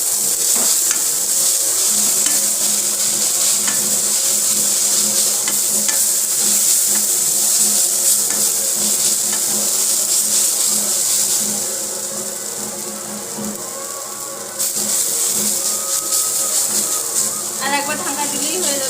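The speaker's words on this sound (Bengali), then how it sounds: "নেড়ে নিচ্ছি।" Egg and potato frying in a pan while being stirred, a steady loud sizzle with scraping and stirring sounds throughout, briefly quieter partway through.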